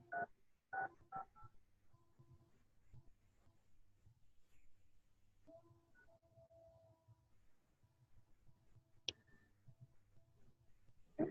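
Telephone keypad tones sound as a few short beeps in quick succession, then sparse single tones, faint and alone amid low room hum and light handling noise.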